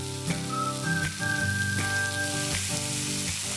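Water hits a hot pan of cheese paneer ghotala, setting off a steady, bright sizzle that crackles continuously throughout, with a faint tonal hum sitting underneath.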